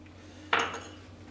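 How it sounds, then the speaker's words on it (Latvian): A spoon scrapes and clinks in a bowl of carrot sponge cake batter just after baking soda goes in, one short burst of stirring in a quiet kitchen. "Un kārtīgi samaisam"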